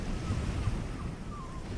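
Ocean waves on a seashore make a steady soft wash of surf mixed with wind, with no talk.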